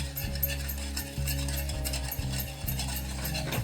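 Gram flour (besan) mixed with turmeric, chili and salt for patvadi, soft repeated scraping and stirring strokes in a bowl over a steady low hum, close and even in rhythm.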